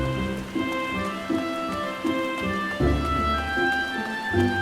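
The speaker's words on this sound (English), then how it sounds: "The rain, it's warm, just like home." Rain falls in Gridania, the forest city of the video game Final Fantasy XIV, as a soft, steady patter beneath sustained tonal ambient music.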